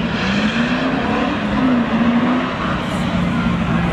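Spectator drag race cars at Seekonk Speedway, including a 2000 Mercedes, drone past with steady engine noise and a rising pitch from acceleration, heard from some distance under a broad crowd and track ambience.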